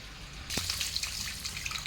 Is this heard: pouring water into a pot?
yes